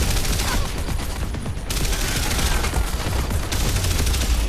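Rapid automatic gunfire from Terminator Salvation on PC fills the whole stretch, dense overlapping bursts with a brief dip before resuming, loud and continuous with no one talking over it.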